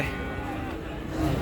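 A Friesian bull at the Chandimura cattle market in Cumilla, a short, low, resonant moo heard close amid the market's background murmur.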